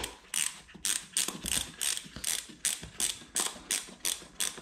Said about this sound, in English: This has a cam that tightens wire around your boot